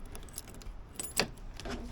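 A bunch of keys jangles in brief metallic bursts while a T-handle lock on a Leer truck cap is unlocked, close and fairly quiet, with one sharper clink midway.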